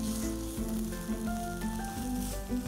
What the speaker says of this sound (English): And to this, I will add some tomato puree.